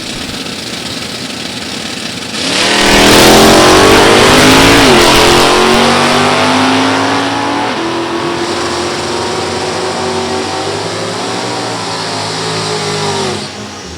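A 1966 Chevy Nova and an automatic Oldsmobile launch side by side at a drag strip, a loud roar swelling as both engines rev hard, then holding a sustained strained drone as they pull away.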